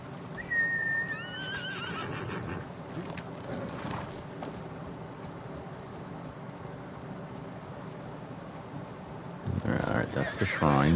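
In the Ghost of Tsushima video game, a horse whinnies loudly near the start and hooves clop near the end, with a person talking over much of the scene.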